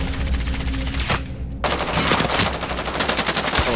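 Rapid bursts of automatic gunfire ring out in the online shooter Call of Duty: Warzone, loud and close, with a short gap before firing resumes in dense, repeated volleys.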